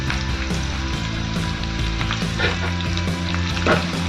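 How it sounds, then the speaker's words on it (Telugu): Curry leaves sizzle in hot oil while cooking a raw mango dal, a loud, close, steady frying crackle with no voices. "రెండు రెమ్మలు కరేపాకు వేసుకున్నాం"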